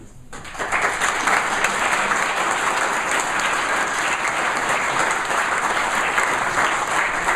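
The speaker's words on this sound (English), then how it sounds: "So I'd like a round of applause for our sponsor," Sustained audience applause for an event sponsor, a dense, steady roar of many hands clapping that starts abruptly and holds loud and even throughout, with no talking over it.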